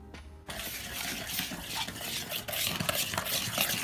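A utensil stirs and scrapes through cookie dough made of dry ingredients, vanilla, egg, oil and butter in a bowl, producing a busy, continuous close-up scraping and clinking after a brief quiet start.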